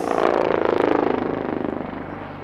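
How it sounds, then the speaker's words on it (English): A helicopter performs aerial maneuvers at the Aero India 2025 air display at Yelahanka Air Force Station, its rotor thumping in a rapid, steady chop that swells loud and then slowly fades. "These maneuvers are the hallmark of a versatile helicopter which are made possible by its unique design."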